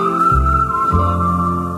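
A person whistles a sustained tuneful phrase within a Hungarian song, loud and close, with accompanying instruments underneath and no singing over it.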